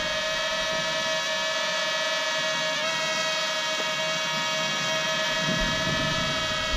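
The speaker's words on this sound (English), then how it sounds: "we'll see if we can do an auto takeoff" A small camera drone lifts off on an automatic takeoff in cold weather, around 25 degrees, then holds a steady hover, giving a continuous close, even motor whine with high harmonic tones throughout.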